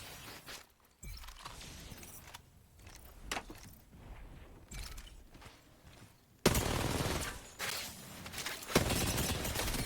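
Bursts of R-99 submachine gun hip fire in Apex Legends, rapid automatic shots in several stretches, with a louder, sustained burst near the end.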